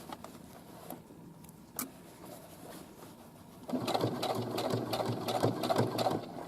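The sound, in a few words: sewing machine stitching a casing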